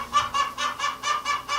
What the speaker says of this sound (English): The chickens aren't happy that we're having a visitor, so they're a little vocal right now.